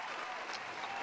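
A short burst of audience applause for a two-man panel on an NFL preview show, steady clapping from a small crowd.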